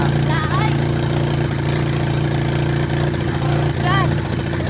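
A motorcycle engine running low on gasoline, idling in a steady, close mid-pitched drone that holds throughout, with voices talking faintly over it.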